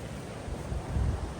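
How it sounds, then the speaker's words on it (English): Water rushing through a busted beaver dam makes a faint, steady outdoor hiss that swells slightly midway through the short stretch, with light wind noise and no voices. "See the water coming down through there."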